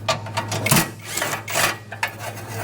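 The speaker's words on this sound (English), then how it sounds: "I'm going to use this long extension 10mm socket." Ratchet turning a long extension 10mm socket while working on a Mazda RX7, quick bursts of rapid clicking repeated several times, close and clear, over a steady low hum.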